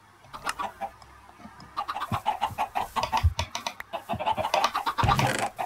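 Chickens cluck in a coop close by, with a burst of rapid, overlapping clucks and squawks that grows busier and louder, along with some scratching.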